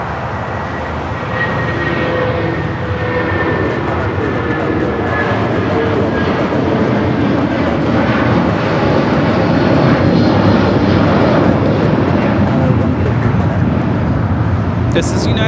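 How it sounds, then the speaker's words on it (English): A United Airlines Boeing 757-200 in Star Alliance livery takes off from LAX, a loud, close jet roar that builds and holds for the whole stretch, with people talking over it. "This is United Airlines 1981 taking off to Newark on the 757-200 in the Star Alliance livery"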